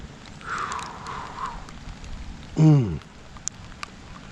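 Rain falls steadily as a soft, diffuse patter through a muddy outdoor event, moderately close, with a brief low rumble and a couple of sharp taps partway through.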